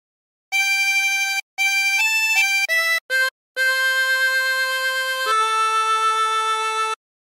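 A diatonic harmonica plays a phrase of the hymn What a Friend We Have in Jesus. About seven reedy notes come in a sequence, some short with brief gaps between them, and it ends on two long held tones. The playing is close, clear and unaccompanied.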